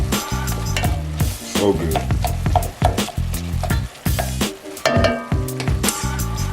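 Food for stuffed shells sizzles and fries loudly in a pan while a utensil stirs and scrapes in repeated bursts; a voice speaks briefly.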